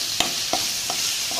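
Ginger garlic paste sautés in a pan with a constant bright sizzle, and a few soft stirring clicks land at irregular intervals.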